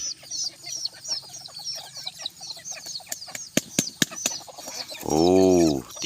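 A bantam rooster's wings flap in a burst of sharp beats, then a loud drawn-out crow rings out close by amid background clucking.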